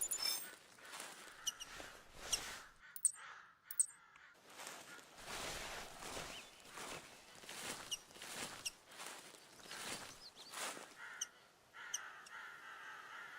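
Crows in the hunting game theHunter Classic cawing in a series of harsh, spaced calls over quiet woodland ambience, moderately distant and fairly faint.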